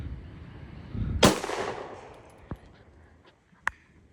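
A single sharp gunshot from a rifle fitted with an eBay binary trigger cracks out at a firing range, ringing off, followed by a couple of fainter distant pops and a metallic clink.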